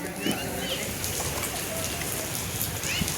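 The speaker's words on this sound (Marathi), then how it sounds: "पाऊस येतोय." Steady rain pours down in Kalyan after three days of nonstop downpour, flooding the area; a dense, even hiss of falling water continues throughout, with faint voices occasionally audible beneath it.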